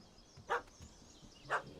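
Two short, faint barks from a dog in a video game, spaced about a second apart against a quiet background.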